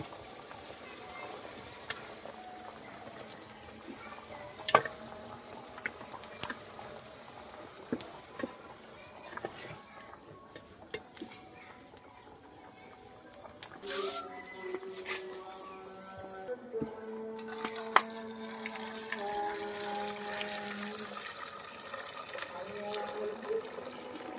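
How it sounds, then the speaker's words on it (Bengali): Close-up water splashing and running as something is rinsed by hand, with irregular clinks and knocks of handling in a basin. "মাছগুলো ধুয়ে দিই"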